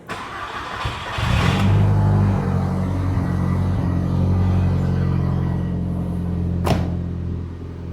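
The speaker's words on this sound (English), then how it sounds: "we're going to fire the car up for you so you can hear a cold start" Cold start of a Renault Clio 172 fitted with an Audi engine and a full 3-inch exhaust: a brief cranking whir, then the engine catches with a rev flare and settles into a steady, fairly loud idle, with a sharp blip near the end.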